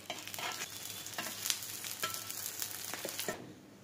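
Madurai-style veechu parotta with egg fries in oil on a hot pan, a steady close sizzle with small crackles and a few soft scraping stirs throughout.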